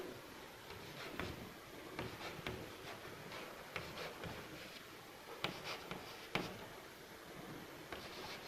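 Marker or chalk scratching on a board as a graph is drawn, with irregular short strokes and taps, quiet and close, without speech.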